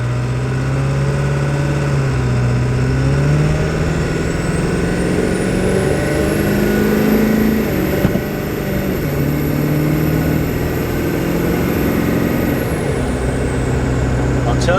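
Ford 7.3 Powerstroke diesel truck running at idle after a tune change for a high idle issue, a loud, close, steady rumble with a faint high whine rising over it partway through.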